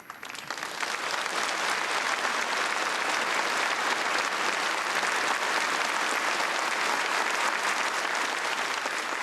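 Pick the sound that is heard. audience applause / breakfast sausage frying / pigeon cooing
audience applause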